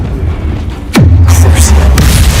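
A Bombarda blasting spell in Hogwarts Legacy goes off as a single loud, close boom with a falling whoosh and a deep rumbling tail, followed by a lighter crackle.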